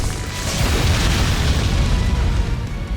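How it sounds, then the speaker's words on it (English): A deep, rumbling explosion fills a battle scene in the visual novel Tsukihime: A Piece of Blue Glass Moon, a loud, sustained roar of low noise lasting for seconds with no voices over it. "a sudden explosion consumes her perch"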